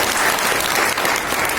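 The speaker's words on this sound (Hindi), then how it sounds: "तो जोरदार तालियों से इनका स्वागत है" Sustained audience applause at a Mahashivratri festival gathering, dense and steady clapping from a sizable crowd filling the whole moment without a break.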